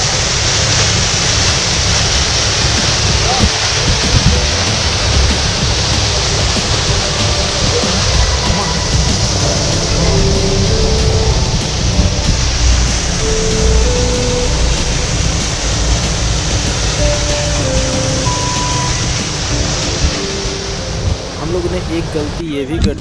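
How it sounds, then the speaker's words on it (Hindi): Mountain waterfall along the Kedarnath trek roars in a loud, steady, broadband rush that fills the whole stretch without pause. "ये देखिए दोस्तों झरना, ऐसा झरना यहाँ पे बहुत है।"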